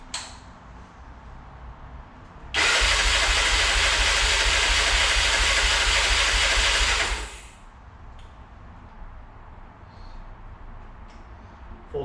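A Honda 300EX ATV engine on half choke bursts into a loud, rough roar that lasts about five seconds before dying back to a low background rumble.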